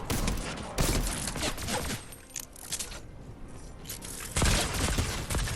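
Bursts of rapid gunfire from a weapon in a video game arena match crack out in several loud volleys, separated by brief quieter gaps with scattered shots and game effects.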